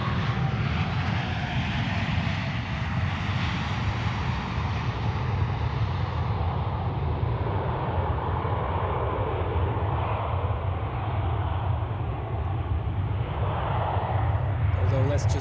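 An airliner landing at Zurich Airport, a loud, sustained engine roar that slowly changes pitch as the plane passes and touches down, heard from nearby outdoors without any voices.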